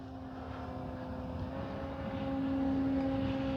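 A Hangar 9 J-3 Cub 10cc RC plane flies inverted overhead, its small engine droning steadily with a propeller buzz that swells slightly louder toward the end, alone without talk.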